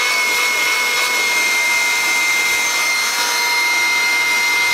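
A Dirt Devil vacuum cleaner running at full strong suction, a loud, steady close roar with a high whine that holds unbroken from start to finish.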